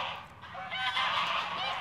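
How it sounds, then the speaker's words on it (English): A flock of geese taking off, honking loudly together, their calls rising and overlapping as the flock grows louder and more agitated. "The geese just took off."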